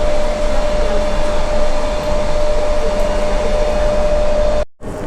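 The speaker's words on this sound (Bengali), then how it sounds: "এই যে আমরা এখন ট্রেনে উঠে পড়েছি এই ট্রেনটা কাস্তিলোর দিকে যাচ্ছে" Inside a moving passenger train bound for Castellón in Spain's Valencia region, a steady close cabin hum carries a faint whine and stays unbroken until a brief drop near the end.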